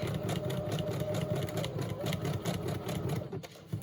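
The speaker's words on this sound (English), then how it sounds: "I'm going to stitch straight across to that center and end it right there." A sewing machine stitches with green thread in a steady, fast mechanical whir that holds at an even level throughout and sounds close, with no talking.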